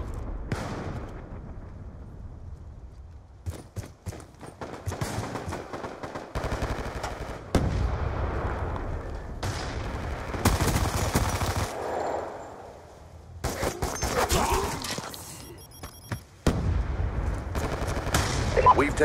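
Hellstorm missile strike in a Call of Duty Hardpoint match: a run of loud, booming blasts and crackling impacts in bursts across the clip, mixed with rapid gunfire and occasional faint voices.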